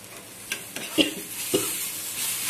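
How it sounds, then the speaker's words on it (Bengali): Mustard and ginger paste stirred in a cooking pan for a fish-roe and hog-plum chutney: several distinct scraping strokes of a spoon at roughly half-second intervals over a soft continuous sizzle, close and moderately loud. "মশলাটা দিয়ে দিয়েছি, একটু নাড়াচাড়া করে নেব।"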